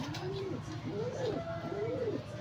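Pigeons cooing in a loft, repeated soft rolling coos in a slow rhythm, heard fairly close under someone talking.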